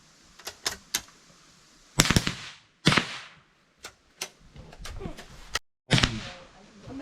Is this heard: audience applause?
no